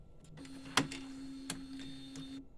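A DTG 1400/1390 garment printer runs its automatic head-clean cycle, giving a steady mechanical hum with sharp clicks and ticks at irregular moments, close and moderately loud.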